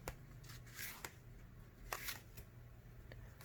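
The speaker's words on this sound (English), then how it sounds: "we all know how to do an overhand shuffle" An overhand shuffle of playing cards, heard as a few quick, soft bursts of cards slipping off the deck in irregular spurts, close and faint, with no talking.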